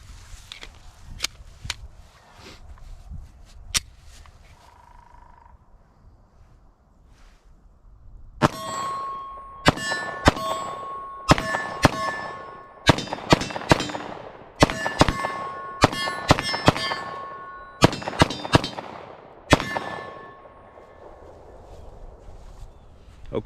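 Gunshots ring out in a rapid, uneven string from a Glock 19X pistol emptying a magazine, loud sharp cracks with metallic ringing, following a quieter stretch with a few isolated clicks and taps.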